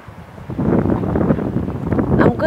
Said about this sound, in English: it's very windy, so I hope you can hear something